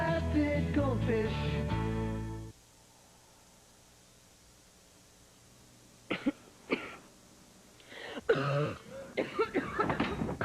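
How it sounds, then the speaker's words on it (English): A person coughing late at night in a cough-medicine commercial: several sharp, close coughs in an irregular cluster after a quiet pause, following a short burst of music. "Cough getting you up in the middle of the night?"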